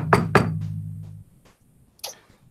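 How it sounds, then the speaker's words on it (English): Two hard, close knocks on a door, followed by a faint fading resonance, a few softer taps and then one more sharp knock. "Knock at the door."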